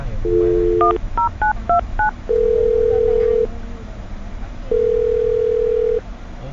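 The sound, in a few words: telephone number being dialed, dial tones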